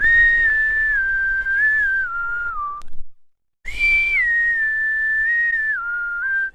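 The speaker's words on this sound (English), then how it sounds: "this is how the recording sounds when I whistled into my phone that we actually ended up keeping" A person whistles two long sustained phrases into a phone, each a steady tone that steps slowly downward, separated by a brief silence, close and clear with a breathy edge.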